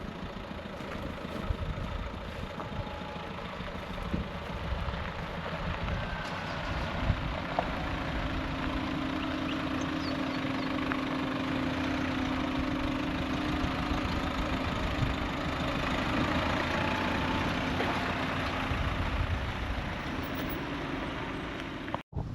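Engine drone inside a vehicle driving toward Wave Rock in Western Australia, steady and moderately quiet with low rumble and road noise, a faint sustained tone in the middle, and no talking.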